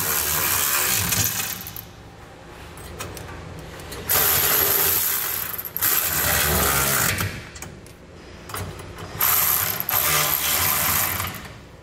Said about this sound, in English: We're going to use a 3/4 inch socket to tighten down all the nuts on our cross beams to our center section here.